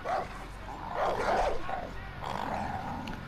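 Attack dogs in the Far Cry 5 video game bark and growl in short, rough bursts at close range, mixed with whimpering tones, over steady game background noise.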